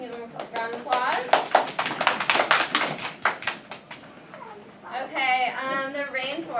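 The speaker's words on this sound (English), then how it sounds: "Can you give them a round of applause?" A classroom group gets a round of applause from classmates during a science lesson, quick sharp hand claps in a busy burst that fades, then children's voices talking toward the end.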